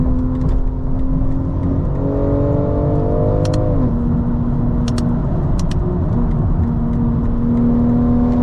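A tuned BMW M340i xDrive with a custom XHP transmission tune accelerates hard from inside the cabin, its engine droning loudly and rising in pitch, then dropping abruptly at quick gear shifts, with faint clicks in the background and no speech.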